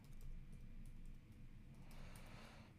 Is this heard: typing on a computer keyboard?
yes